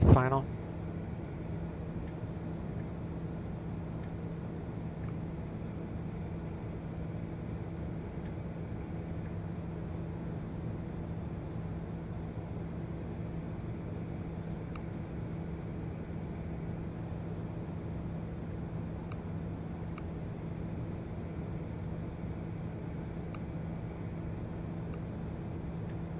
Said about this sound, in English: Like to hear the engine on the final.